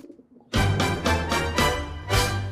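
Pigeons cooing loudly and close, a series of about five deep, rolling coos in quick succession after a brief quiet start.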